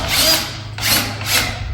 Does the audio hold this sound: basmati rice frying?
no